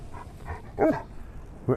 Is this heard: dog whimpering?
yes